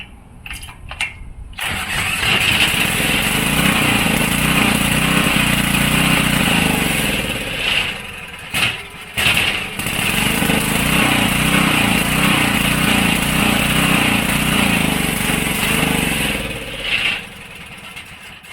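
A Coleman generator engine cranks over with a few short bursts, then catches and runs steadily for a long stretch with a dip midway before winding down, loud and close with no talking.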